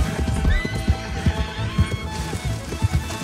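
Horse hooves clip-clop at a steady run with a clear neigh in Red Dead Online, loud and close, with faint game ambience and possible chatter underneath.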